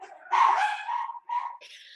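A dog gives a couple of quick, fairly faint barks and yips in close succession, with no talking.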